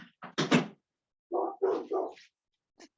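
A house dog barks in two quick bursts of several sharp woofs, fairly close indoors, then gives a single short yip after a pause.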